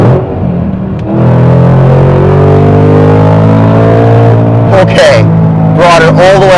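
A 2013 Ford Mustang Shelby GT500 pulls hard in third gear, its engine a loud, close, rising drone that climbs steadily in pitch, while someone speaks over it toward the end.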